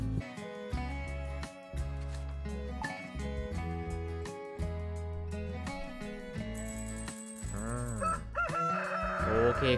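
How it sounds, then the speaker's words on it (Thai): Chickens and a rooster crowing on a farm in a fish-pond farming game, the calls layered over continuous game music with melodic tones and a brief bell-like ringing, moderately quiet. "โอ้ไก่ก็ไปทั่วเลย"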